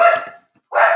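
Two sharp dog barks, close and loud, separated by a brief silence.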